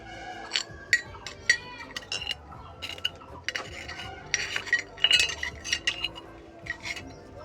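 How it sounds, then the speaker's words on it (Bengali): Dishes, plates, pots and cutlery are being washed in a home kitchen, giving close, irregular clinks and clatters of metal and crockery, moderately quiet, with no talking. "থালা বাসন সকালবেলা এবার ধুয়ে নেব"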